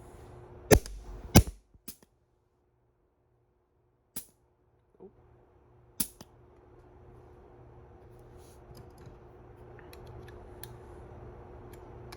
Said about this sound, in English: There's a vortex disc. It's firing.